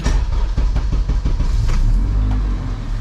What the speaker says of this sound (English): I'll just fire the car up